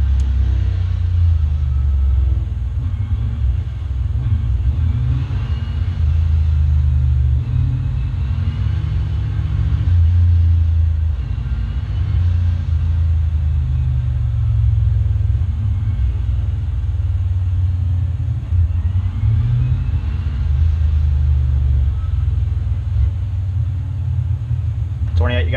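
Race car engine from the iRacing dirt racing game at Eldora, a steady loud low rumble that runs throughout with small surges, with a voice talking over it.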